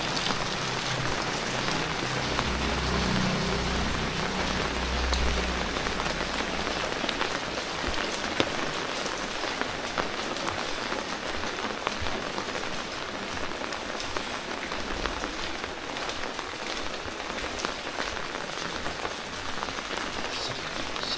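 Steady, heavy rain pours down on hard surfaces in Dieng, a dense constant hiss of drops with water splashing from a rain spout, no voices.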